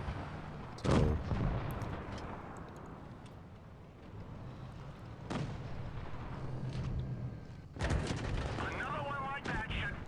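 Tank cannon shots traded in WOT Blitz, fired by a Chinese Type T-34 tier 5 medium tank, land as three sharp, booming blasts spaced several seconds apart over a rumbling game background.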